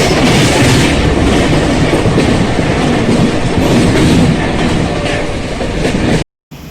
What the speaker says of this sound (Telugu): ప్రస్తుతం మన ట్రైన్ వచ్చేసి 120 km/h క్రూజింగ్ స్పీడ్లో అయితే వెళ్తోంది